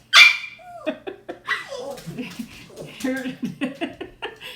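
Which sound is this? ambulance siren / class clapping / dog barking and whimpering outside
dog barking and whimpering outside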